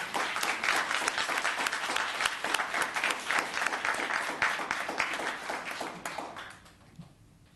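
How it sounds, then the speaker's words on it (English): A town council meeting audience applauding a charity volunteer, a dense steady round of clapping that fades out over the last second into near silence. "Let's give her a round of applause."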